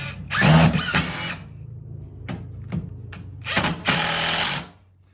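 A power drill drives a long screw through a door frame into the studs, in several loud bursts of whining spin separated by short pauses and small clicks.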